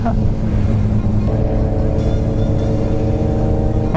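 A 2008 Suzuki Hayabusa motorcycle engine drones steadily and close up as a rider attempts wheelies, with its pitch stepping up partway through and climbing again at the very end.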